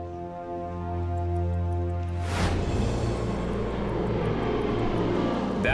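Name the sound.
DC-4 propeller aircraft landing on runway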